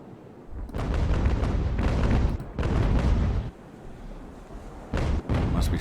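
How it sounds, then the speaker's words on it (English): Sailing warships fire naval cannons in the Ultimate Admiral: Age of Sail game, a loud rolling series of heavy booms in long sustained bursts with brief gaps, close and dense, with no talking. "Now let's get some shots on him and lower that crew number. Come on, let's fire."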